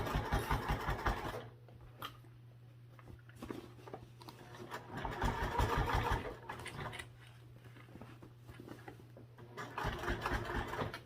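Close and clear, a sewing machine stitches the final binding seam on a backpack. The motor whirs in three bursts, each with a fast clatter of needle strokes, and a low steady hum carries through the short pauses between them.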